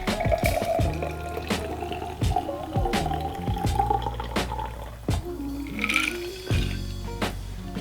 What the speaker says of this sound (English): We're going to strain this into our beautiful tulip champagne flute.